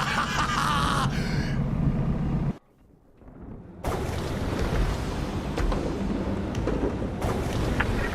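Storm sounds from the VR game A Fisherman's Tale: dense rain and rumbling thunder roar loudly, break off into near silence for about a second, then surge back steady and heavy.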